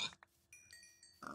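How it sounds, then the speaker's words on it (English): Pigs oinking in Minecraft, a few short, faint grunts spaced apart over quiet in-game sounds, with no voices. "Oh, pigs."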